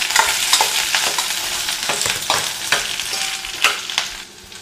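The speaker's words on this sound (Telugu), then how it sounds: "ఇప్పుడు ఈ ముక్కలను కలిపేసుకుందాం." Bottle gourd, drumstick and carrot pieces are stirred in a pot, with repeated scraping strokes against the metal over a steady sizzle, close and fairly loud with no talking.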